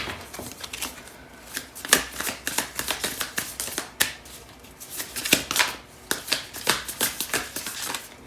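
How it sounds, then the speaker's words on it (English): Tarot cards are shuffled by hand, close and crisp, in steady riffling and slapping bursts for several seconds with no talking. "So let's find out what messages come through with the cards for today."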